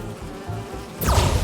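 Insect-like buzzing of bees in the video game Marvel's Spider-Man 2, a steady close drone that suddenly swells louder near the end, with no talking over it.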